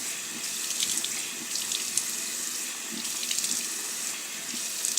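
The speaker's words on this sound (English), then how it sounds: "Now I'm just gonna rinse this off my skin because it says to rinse it off." Tap water runs steadily into a sink as a gritty cleanser is rinsed off skin, a close, continuous splashing rush with small irregular splatters and no talk.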